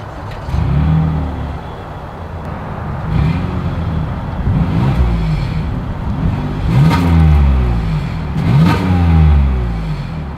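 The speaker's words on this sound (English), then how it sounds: "As always, here is that exhaust clip." Exhaust of a 2022 Toyota Highlander SUV revving repeatedly, loud and close, with several rising and falling engine swells across the clip and no talking.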